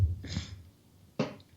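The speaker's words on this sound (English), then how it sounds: "there's that sniffle again" A person sniffles twice, two short nasal inhalations about a second apart, close and fairly quiet with no talk.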